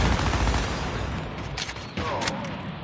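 Snipers open fire in a Call of Duty match, a dense, loud crackle of gunshots rolling in a continuous burst that thins out toward the end.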